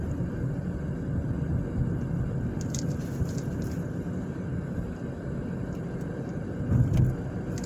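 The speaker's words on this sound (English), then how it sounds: "So the traffic that you see is not going to be the norm." Downtown street traffic in South Bend, Indiana, heard as a continuous low rumble of passing cars with a faint hum and a slight swell near the end, steady and moderately loud with no talking.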